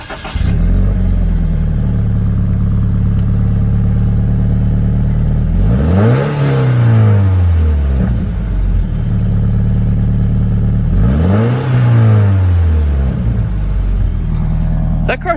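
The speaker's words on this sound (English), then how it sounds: "That car sounds really good stock." Stock sports car engine, from a 2020 Civic Si versus 2019 Subaru BRZ meet, idling steadily then revving up sharply twice with rising and falling sweeps, close and loud, with no talk over it.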